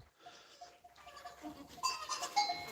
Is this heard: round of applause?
no